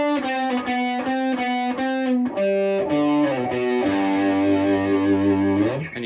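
A distorted electric guitar slowly plays a riff, with steady strummed chords giving way to sustained ringing notes that bend at the end, loud and close.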